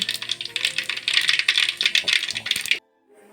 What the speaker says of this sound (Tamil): கடுகு வந்து நல்லா பொரிஞ்சு வந்துருச்சு